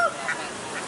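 Ducks at an animal market give a brief nasal honking quack close by against a steady market background.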